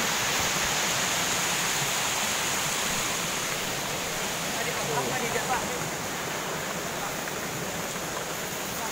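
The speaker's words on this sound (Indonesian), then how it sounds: "kita menuju ke arah sungai." Steady, dense rushing water roars throughout, a broad continuous wash like a river cascade heard up close, at Curug Citeduh waterfall in Tasikmalaya, Indonesia.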